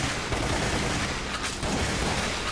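Gunfire in Resident Evil Umbrella Chronicles, a dense, continuous barrage of shots with booming blasts, loud and unbroken throughout.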